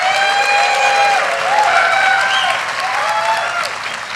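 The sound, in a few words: crowd applauding at a motocross drivers meeting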